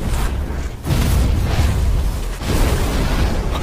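A poison explosion in an animated fantasy series goes off as a sustained, loud, rumbling blast, with a brief dip before a second heavy roar continues to the end.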